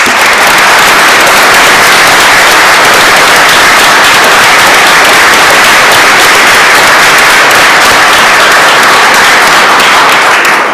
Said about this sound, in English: I would like to have a round of applause for Justice Cowan and Justice Dreben